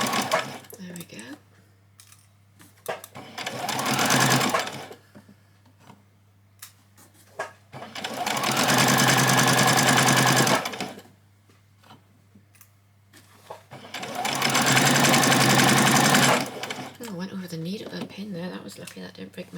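A sewing machine stitches a child's dress in three sustained runs of a few seconds each, close and fairly loud, separated by quieter pauses with handling noises and a voice speaking.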